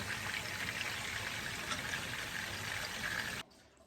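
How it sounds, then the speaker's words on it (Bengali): Water pours steadily from a tap over six or seven pounds of goat meat being washed, a soft continuous splashing that stops abruptly near the end. "এখানে খাসির মাংসটা ধুয়ে নিচ্ছি"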